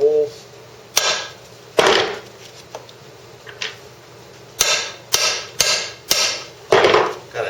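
A steel ball is hammered against a case cover gasket to cut it around the holes: sharp metallic taps land one at a time, about nine of them, irregularly spaced and close, with quiet pauses in between.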